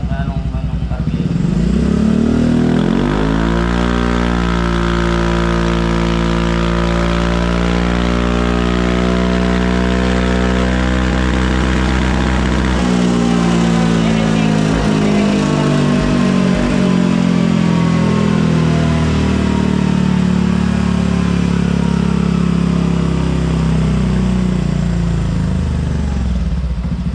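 A remapped Yamaha Fazzio 125 scooter fitted with a Palit exhaust pipe revs loud and close, its engine pitch climbing and falling through repeated throttle sweeps over a steady idle drone.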